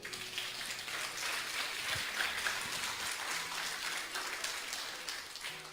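Church congregation applauding steadily throughout, a dense wash of many hands clapping at moderate distance with no clear pauses.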